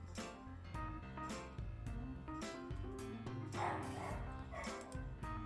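A dog barks excitedly indoors, a few quick barks and yips scattered through a steady background of music.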